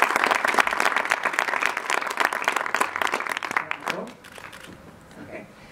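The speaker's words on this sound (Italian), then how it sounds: "Un applauso alla signora Leone." Applause at a film press conference in Rome for the Miami Beach movie, a dense burst of clapping from the room that holds steady for about four seconds, then fades out into quieter room noise.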